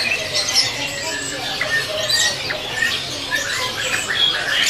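A prinia songbird, called perenjak, gives repeated sharp, high chirping calls in quick bursts, fairly close and clear over low background murmur, with faint voices of people nearby.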